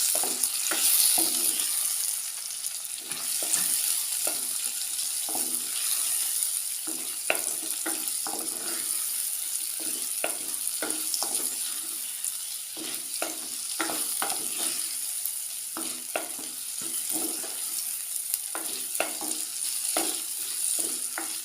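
Chopped tomatoes fry in a pan with onion, garlic and ginger already sautéed, giving a steady bright sizzle with frequent close spoon-stirring scrapes for a curry.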